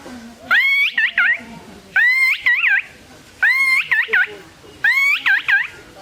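A person mimics the call of a krishnakutum bird, giving four evenly spaced, loud warbling phrases, each a high trill followed by a quick wavering flourish.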